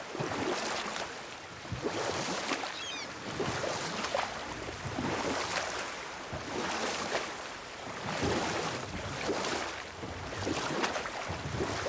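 Oars rowing a boat across open water in God of War, steady rhythmic strokes and splashes over a constant wash of waves and wind, close and moderately loud, with no talk.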